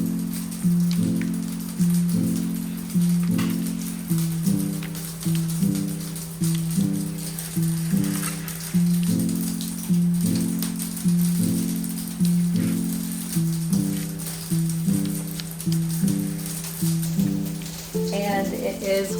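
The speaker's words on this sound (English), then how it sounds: "It is sleeting, freezing rain. Listen to how this sounds." Sleet and freezing rain patter on a greenhouse roof in a steady, rhythmic drumming, recurring in regular pulses under a low, constant hum from inside.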